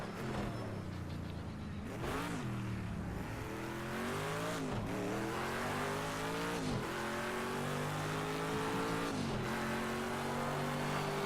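Race car engine in a racing video game on the final lap, revving hard and steady with repeated gear-shift dips roughly every two to three seconds, loud and continuous with no talk.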